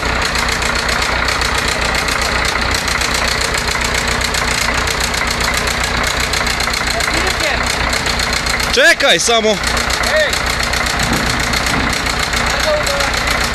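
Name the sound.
Zetor Super 50 tractor engine idling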